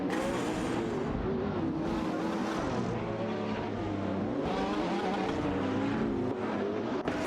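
Engines of a Radical RXC and a McLaren 675 LT roar together in a video game race, a loud, constant drone with rising and falling pitch as the cars accelerate and shift.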